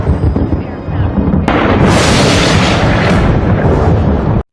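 A plane explodes in a film scene near an airport on Long Island: a sudden massive blast erupts into a loud, roaring, sustained rumble that fills the scene before cutting off abruptly.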